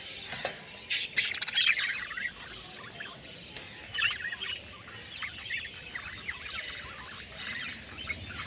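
A pair of pet birds, kept indoors, chirps and twitters in quick, high bursts. The sound is fairly faint and grows busier near the start before thinning into scattered calls.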